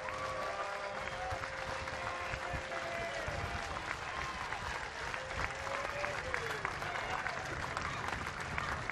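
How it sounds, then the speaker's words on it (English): A large baseball stadium crowd roars and cheers steadily in a big open space with the bases loaded, a voice talking over the continuous din. "you hear the crowd starting to get into it with the bases loaded"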